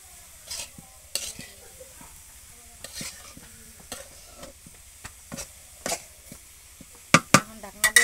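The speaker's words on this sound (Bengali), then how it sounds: "লবণ দিয়ে আর একটু নাড়াচাড়া করে দেবো।" Colocasia greens frying in a pan are stirred with a utensil, giving intermittent scraping strokes over a faint steady sizzle, with a few sharper clanks near the end.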